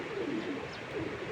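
Pigeons kept at a home loft give a soft, low cooing, a rolling murmur heard at close range for a brief moment without any talking.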